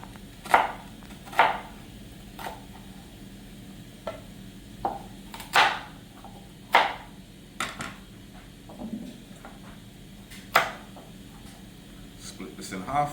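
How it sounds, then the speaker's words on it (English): A knife slices an onion on a cutting board for Jamaican escovitch fish, making sharp, separate chopping taps roughly a second apart over a low murmur of background talk. "Slice up the onion."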